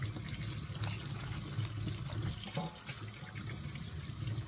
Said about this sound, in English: I'm going to rinse these off really well. This is how I do it. I just kind of scrub it with my hands.